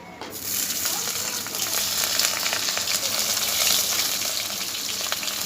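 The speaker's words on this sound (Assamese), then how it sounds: "এতিয়া ইয়াতে মই পিঁয়াজ আৰু জলকীয়াখিনি যিখিনি কাটি লৈছোঁ সেইখিনি ইয়াতে দি দিম।" Chopped onion and green chili drop into a hot pan and start to fry, a broad sizzling hiss that swells suddenly and keeps going steadily and close.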